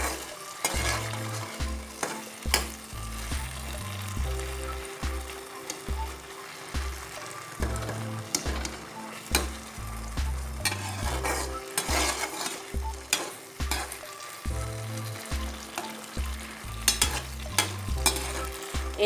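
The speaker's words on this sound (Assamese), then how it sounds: "একেবাৰে গলি যোৱালৈকে ভাজিব লাগে, তেতিয়া বিলাহীৰ জোলটো ভাল হয়" Tomatoes for an Assamese fish curry fry in a pan and are stirred, with a steady sizzle under repeated scraping strokes and light clinks, close by, while a rhythmic musical track plays over it.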